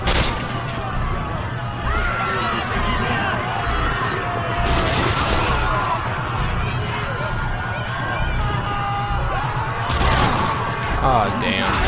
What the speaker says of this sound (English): I'm just gonna shoot in the air.